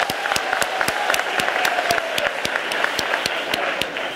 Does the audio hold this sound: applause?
yes